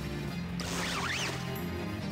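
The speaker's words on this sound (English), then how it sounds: "I heard another zipper." A quick zipper effect from the JoJo's Bizarre Adventure: Golden Wind video game rips through with a swooping, wavering rasp over steady game background noise, brief and fairly clear.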